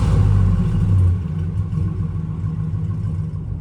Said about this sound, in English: We got Stainless Works exhaust on, 50 mile an hour, zero drone out of this setup.